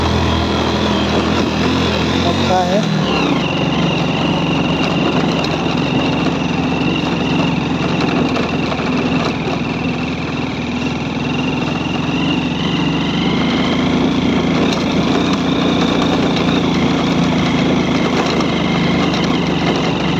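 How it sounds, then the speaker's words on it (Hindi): Old 2011 Hero Splendor motorcycle engine running steadily for the whole stretch, a continuous near drone with a brief low shift early on and a few words spoken over it. "ये मैं जो चला रहा हूँ ये ओल्ड मॉडल एक्सप्लेंडर 2011-9 का है।"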